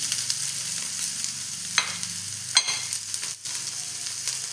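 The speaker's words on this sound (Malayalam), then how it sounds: "കടുക് പൊട്ടിക്കഴിഞ്ഞ് സവാള ഇട്ട് കൊടുക്കണം" Sliced onions sizzle in hot oil in a pan right after mustard seeds splutter, while cooking Kerala-style carrot upperi; a steady close frying hiss is broken by a few sharp pops and stirring scrapes.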